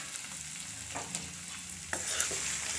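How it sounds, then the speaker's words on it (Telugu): Pieces of bitter gourd fry with ginger paste in a pan, giving a quiet, steady sizzle with faint stirring scrapes, a little louder toward the end. "తర్వాత వచ్చేసి కాకరకాయ ముక్కలు వేసుకున్నాను."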